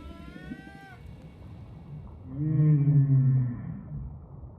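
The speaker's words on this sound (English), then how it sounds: "We know that humpback males sing during the breeding season." Long, moaning male humpback whale song rises and falls in pitch, with a louder, deep sustained tone swelling toward the end over a faint watery background.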